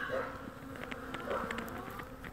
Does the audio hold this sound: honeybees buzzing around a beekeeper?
yes